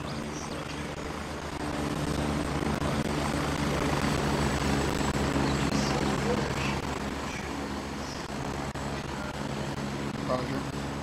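In the video game Gray Zone Warfare, a military helicopter flies with a steady, droning rotor and engine roar throughout, while radio voices talk over it.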